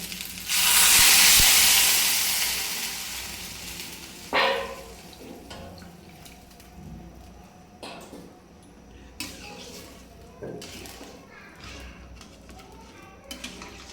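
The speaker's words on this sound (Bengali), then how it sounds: "এবারে আমি দিয়ে নিচ্ছি জল" Water hits frying mung and masoor lentils in a hot pan with a loud burst of hissing sizzle that slowly fades, followed by occasional utensil clinks and soft bubbling.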